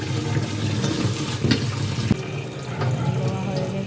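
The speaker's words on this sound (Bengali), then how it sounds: "এবার তো ধুয়ে নেব চালটা।" Rice being rinsed under a running kitchen tap, a steady broadband rush of water with light splashing and clinks in the sink throughout, close and continuous.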